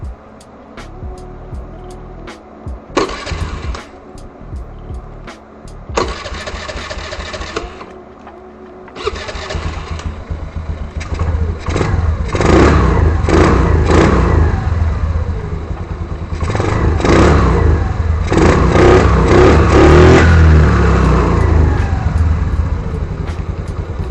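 A 2022 Honda Navi with an intake delete and no exhaust cranks in several short, loud bursts, catches, and then idles raggedly between repeated close, rising revs.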